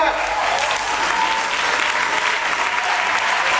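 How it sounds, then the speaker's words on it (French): A church congregation rises and applauds at length, a dense, steady wash of clapping filling the hall, with voices mixed in beneath it. "Levez-vous pour acclamer le Seigneur."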